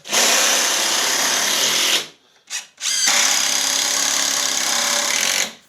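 A power drill drives screws through plywood into floor joists and noggins, two loud whining bursts of about two seconds each separated by a short pause and a brief blip.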